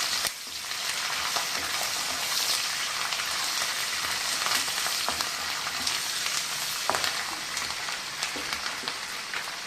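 Green chillies and curry leaves fry on low heat in oil for pulihora, giving a steady, close, even sizzle with faint crackles and no voices.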